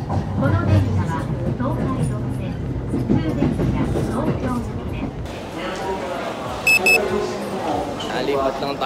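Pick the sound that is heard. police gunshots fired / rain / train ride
train ride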